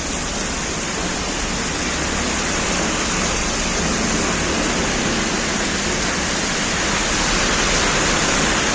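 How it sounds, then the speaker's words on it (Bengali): Heavy rain with big drops pours down during a battery rickshaw trip, making a loud, dense, continuous hiss and patter throughout, with no voices. "হ্যাঁ, অনেক বৃষ্টি নামতেছে।"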